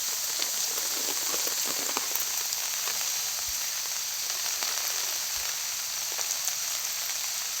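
Heavy rain with wind falls steadily at an outdoor roadside, a dense, even hiss of drops on surfaces with scattered louder patters, no voices.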